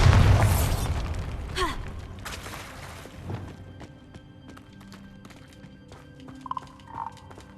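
Bombarda spell blast in Hogwarts Legacy: a heavy booming impact right at the start that quickly decays into crackling debris, followed by scattered smaller knocks, faint clinks and a brief chiming magical tone near the end.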